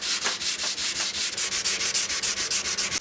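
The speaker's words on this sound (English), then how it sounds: "Just sanded through the grits down to about 600, and it really gave a nice finish to this oak" Oak wood being hand-sanded through progressively finer grits up to 600, a steady back-and-forth rubbing rasp in an even rhythm of about five strokes per second, loud and close with no voices.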